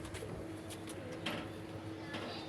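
Dhamtal pigeons, a Lakha pair and pearl-eyed birds, cooing softly at a distance under a constant hiss, with a few faint chirps mixed in.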